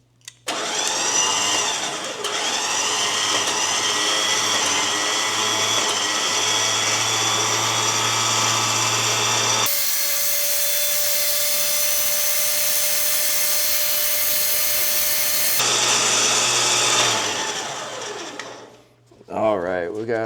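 A winch on an FJ Cruiser spools in synthetic line with a loud, steady motor whine and drone that shifts pitch midway, then winds down to a stop near the end.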